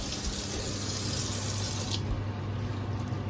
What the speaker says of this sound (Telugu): వాటర్ పోసుకోవాలి ఇలాగా